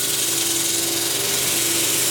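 A lathe spins in reverse with a steady, dense mechanical whir and a constant hum, even and unbroken for a couple of seconds.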